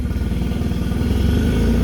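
Paddle King pontoon boat's outboard engine revved in neutral to warm it up, a close, loud, throbbing motor with rapid even pulses that rise slightly in pitch, heard alone.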